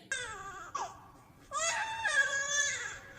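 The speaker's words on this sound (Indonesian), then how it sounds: "Dan salah satu dari mereka mendengar tangisan bayi." An infant cries in close, wavering wails, one short cry, then a longer sustained sobbing cry after a brief pause.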